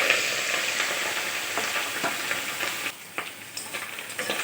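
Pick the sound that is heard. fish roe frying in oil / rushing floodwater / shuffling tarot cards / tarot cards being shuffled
fish roe frying in oil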